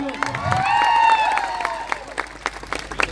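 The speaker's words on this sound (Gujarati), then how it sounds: "એમના માટે જોરદાર આપણે તાળીઓ પાડી લો" Crowd at a political rally clapping for police officers and staff, a short burst of applause rising and then thinning into scattered claps, with a voice and some tonal sound over the start.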